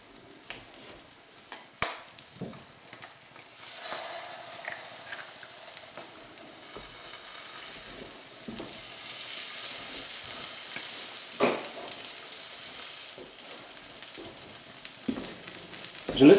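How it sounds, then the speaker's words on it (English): An egg cooks in a pan beside spam, a soft, low sizzle with scattered clicks and taps of a utensil, fairly quiet and steady. "It's time to put the egg in."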